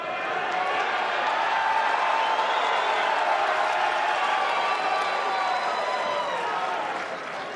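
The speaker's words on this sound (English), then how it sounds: "The roars of this crowd are making us redundant." Large arena crowd at the 2022 Mosconi Cup pool match, Team USA versus Team Europe, roaring and applauding in a loud, sustained wave that swells and holds for several seconds before easing slightly, a dense wash of cheers and clapping with voices mixed in.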